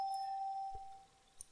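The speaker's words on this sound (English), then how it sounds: "This is my doorbell." A doorbell chime with a sustained ringing tone that fades over a second and a half, ending with a brief bright ding, fairly quiet and alone.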